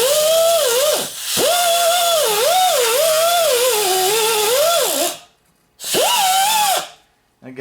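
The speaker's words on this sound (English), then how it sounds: "I will get in here with my little die grinder. It fits right in there." A small die grinder cleans the front brake hub of a 2004 Honda Civic. It gives a loud, steady whine with a wavering pitch for about five seconds, cuts out briefly, then returns in one short burst, with no talking.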